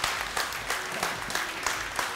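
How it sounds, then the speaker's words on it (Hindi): A studio audience applauds the UET team on a Ramazan quiz show, the clapping steady and moderate over the whole stretch with a faint voice or two beneath it. "तालियां तो बजाइए ढंग से बजाएं यार तालियां"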